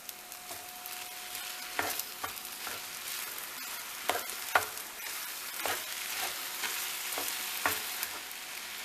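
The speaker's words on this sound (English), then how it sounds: "Now let's put in our fire roasted tomatoes." Fire-roasted tomatoes tipped into a hot pan for stuffed bell pepper sauce, a soft continuous sizzle with repeated stirring scrapes and light spoon knocks, close and fairly quiet.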